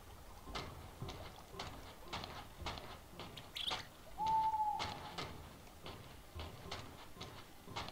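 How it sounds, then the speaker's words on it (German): An owl in the dark setting of the Pulse game gives a single brief hoot, moderately clear, over steady rhythmic footsteps and low background noise. "Ich höre eine Eule. Oder ein Uhu."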